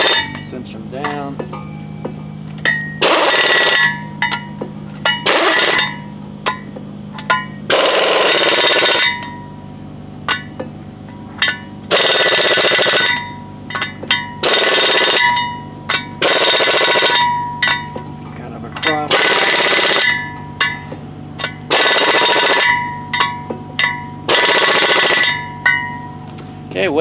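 An air impact tool tightens hub bolts on a Workhorse W22 brake rotor in a workshop. About a dozen loud, harsh bursts, each lasting a second or two, are separated by short pauses over a low, steady mechanical hum.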